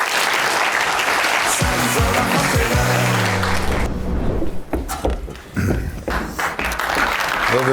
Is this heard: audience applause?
yes